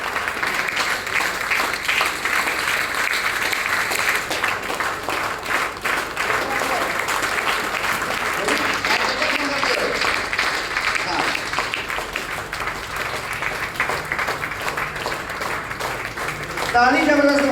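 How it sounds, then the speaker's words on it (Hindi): An audience claps loudly at a birthday honouring event, sustained dense applause with a crowd voice and speech over it near the end. "ताली फिर से बजाओ, जबरदस्त वाली ताली बजनी चाहिए।"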